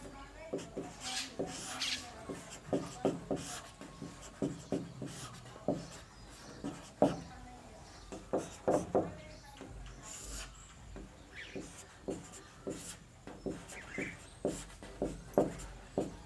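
Chalk or marker writing questions on a board during a maths class on surds and indices, a steady run of short scratchy strokes and taps with pauses between them, close and fairly clear, no talk over it.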